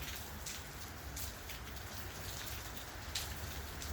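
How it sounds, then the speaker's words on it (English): Steady rain falls all day on the ground and a roof, a dense continuous patter of drops with a few sharper splashes standing out, close and even throughout. "You can hear the music of the rain on the floor and on the roof."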